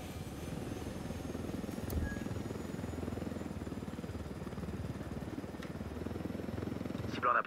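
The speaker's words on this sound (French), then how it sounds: "Non, je propose on prend l'hélico et on se taille." A helicopter in the video game Ghost Recon Wildlands, a continuous loud rotor drone and engine whine holding steady throughout, with players' voices speaking French over it.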